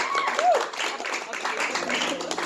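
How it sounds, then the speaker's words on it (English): An audience applauds in a dense, steady patter of clapping, with a brief whistle near the start and crowd voices mixed in. "Let's give a round of applause for Sounds of Harmony."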